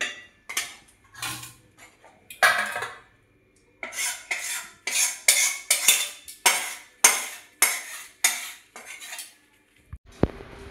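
Boiled dal mashed with a metal utensil in a pot, a run of scraping, clinking strokes in an uneven rhythm, close and fairly loud, with a sharp knock at the end.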